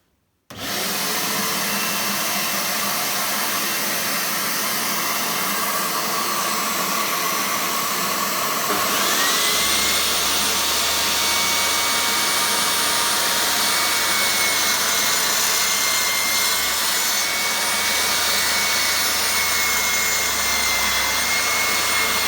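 A DeWalt DWS773 mitre saw runs loud and steady, its whining motor spinning up and then cutting a 45-degree bevel, with the pitch shifting partway through as the blade bites into the wood, and no talking.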